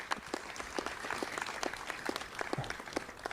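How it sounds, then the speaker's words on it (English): An audience applauds at a bridge ribbon-cutting ceremony, a moderately loud outdoor patter of many hands clapping steadily at a middle distance. "Get a huge round of applause."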